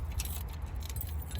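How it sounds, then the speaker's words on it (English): A ring of keys for a Casita trailer's safety pin jingles and clinks in quick irregular bursts over a low background rumble, close and fairly clear, with no voices. "So first we're going to locate our keys right here."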